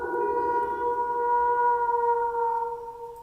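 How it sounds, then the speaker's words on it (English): A dog howls in one long, wavering, tonal note that holds for about three seconds and slowly fades, heard close and clear with no talk over it. "Steve's new dog."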